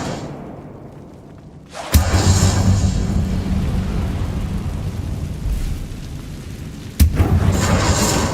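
A fire spell cast in the Hogwarts Legacy video game lands as a sharp booming impact near two seconds, followed by a sustained roaring, crackling burst and a second hard thud near seven seconds.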